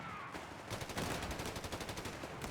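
A rapid burst of machine gun fire in the video game Company of Heroes 3, a steady stream of quick shots heard at moderate distance and fairly faint.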